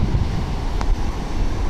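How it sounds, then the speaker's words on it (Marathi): Sea waves along the Konkan coast washing in as a steady broadband roar with wind buffeting the microphone, one brief splash standing out near the middle. "समुद्राच्या लाटा"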